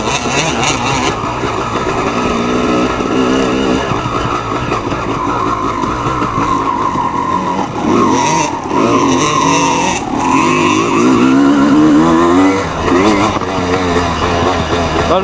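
A motocross motorcycle engine runs continuously on an old-style, somewhat rutted dirt track in the Var, its carburetted note steady and loud with throttle swells and revving surges, and a voice is heard over the engine at moments.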